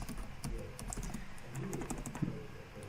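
Typing on a computer keyboard, a steady patter of light key clicks at close range, continuous and fairly quiet, with no talking.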